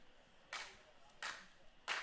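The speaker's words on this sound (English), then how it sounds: "Got some claps from the fans." Baseball fans at Hastings Stadium clapping in three short, separate bursts, distant and faint over a low crowd murmur.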